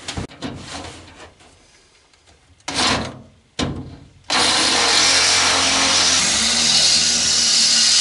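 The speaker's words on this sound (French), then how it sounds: "Alors là, je vais utiliser un forêt de 8." An 8 mm bit drilling into the body of a Citroën Traction 11B while rear seat belts are fitted, a few short scraping bursts giving way to a loud continuous drilling roar in the second half.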